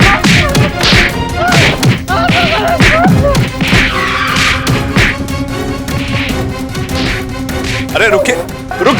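A mob beats a lawyer in a Hindi courtroom TV drama, with a rapid run of loud thumps and whacks throughout, mixed with shouting voices and dramatic music.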